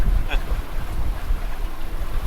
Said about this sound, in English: And a gust like that.